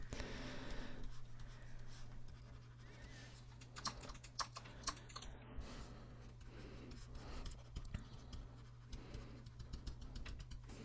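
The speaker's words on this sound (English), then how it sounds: "I'm going to change to the inflate brush just by pressing I on the keyboard" Soft keyboard clicks as keys are tapped on a computer keyboard during 3D sculpting software work, with faint scattered taps over a steady electrical hum and low background noise.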